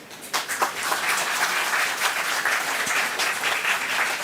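Audience at a memorial lecture in an auditorium applauding, a steady dense wash of many hands clapping together, sustained and even throughout with no speech over it.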